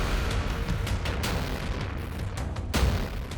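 A loud, rumbling blast-like roar from an Israeli missile strike on a building, with crackling bursts and a heavy impact near the end, booming and continuous throughout.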